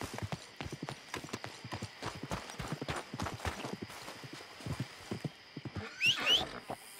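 Horse hooves clip-clop steadily in the Red Dead Redemption 2 game, a brisk rhythmic stream of close, crisp hoofbeats that ends with a short neigh or whinny near the end.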